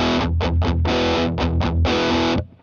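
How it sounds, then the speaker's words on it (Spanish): Electric guitar through an amplifier's distortion channel, playing a chopped rhythmic pattern of short and sustained heavily overdriven chords, loud and close with no talking. "Este es el sonido del amplificador."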